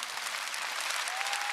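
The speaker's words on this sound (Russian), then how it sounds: "Ваши аплодисменты, дорогие друзья" Audience applause at a Mother's Day celebration concert, a dense, steady wash of many hands clapping together at close range, continuous and loud through the whole moment with no speech over it.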